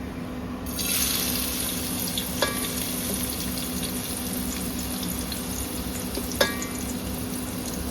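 Onions hit hot oil in a pan for a pulao and settle into a quiet, even sizzle, with two small clinks of a utensil against the pan.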